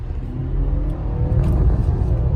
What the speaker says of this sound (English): You can hear the engine, and you have all the 288 horsepower.